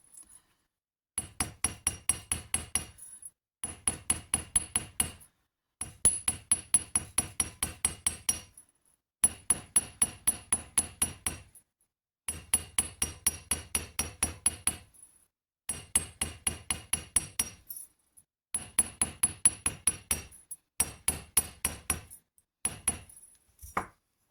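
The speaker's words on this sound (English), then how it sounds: "now I'm going to just less heavy hammer around the edge" A light hammer taps around the edge of a copper penannular brooch in quick rhythmic runs of ringing metallic strikes, paused between groups, close and clear with no talk.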